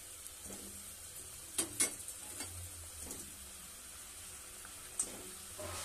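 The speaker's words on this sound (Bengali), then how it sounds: "মাছ আমি দিয়ে দিলাম সেদ্ধ হওয়ার জন্য ঝোলের মধ্যে" Fish pieces dropped into a pot of simmering curry broth, with soft bubbling and sizzling plus a few brief clinks of a utensil against the pot, heard close and without talk.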